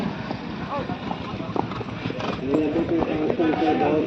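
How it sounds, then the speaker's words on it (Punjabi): Horses' hooves clop irregularly on the ground amid a busy outdoor crowd at a horse fair, with people talking and calling throughout. "ਕਿੰਨਾ ਸੋਹਣੇ ਘੋੜੇ"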